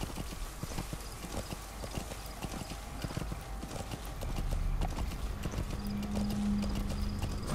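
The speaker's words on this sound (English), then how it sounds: "Yeah, go, horse, go." Horse hooves clip-clopping in a steady galloping rhythm in Metal Gear Solid V: The Phantom Pain, close and continuous, with a brief low whinny near the end.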